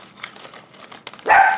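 A dog gives a single short bark near the end, preceded by faint rustling and crinkling noises close by.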